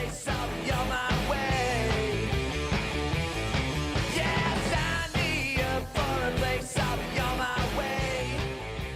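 Dense, loud rock band performance of a song, with driving drums, distorted guitars and shouted vocals, steady and full throughout.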